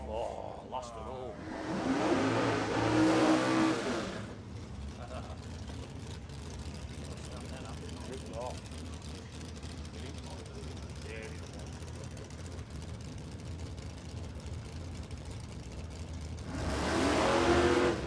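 Drag car launching down a no-prep strip in the Pro Street Radials lane at Warwick Dragway, Australia: a loud engine roar at the start that fades into a distant drone, then swells loudly again near the end, with crowd chatter underneath.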